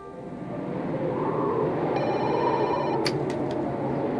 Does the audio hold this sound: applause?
no